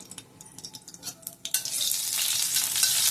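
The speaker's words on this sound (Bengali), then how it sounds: "সেইটা ফোড়ন দিয়ে একটু নাড়াচাড়া করে নিই" Potato and pointed gourd with tempering spices frying in a pan; a few clacks of a stirring spoon give way to a loud, steady sizzle and hiss close up, no talking.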